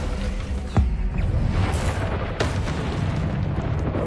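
A heavy magical impact booms and crackles in the video game Hogwarts Legacy as a Descendo spell slams a target down, with a dense, loud rumble through the whole stretch and a few sharper hits.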